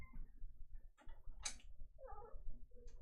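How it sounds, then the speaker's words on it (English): A house cat meows a few times indoors, asking to be let out, the calls fairly faint over a low background hum. "Cat wants out."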